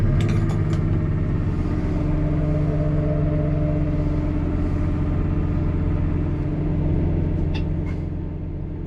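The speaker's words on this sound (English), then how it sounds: "I'm now going to start the tractor and take it for a drive." A Deutz-Fahr 9340 TTV tractor runs with a steady, loud diesel rumble from close by, and a few faint clicks and clatters sound early on.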